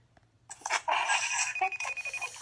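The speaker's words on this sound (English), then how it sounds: "Why are you ringing at me?" A phone rings nearby, a repeating electronic ringtone warbling in short bursts, fairly quiet against a faint background hum.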